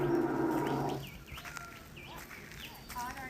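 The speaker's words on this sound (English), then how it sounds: "This bird sounds like lion." At a wildlife sanctuary in Western Australia, a bird gives a deep, rumbling call much like a lion's roar. The loud roar lasts about a second, then gives way to faint chirps and quiet background sounds.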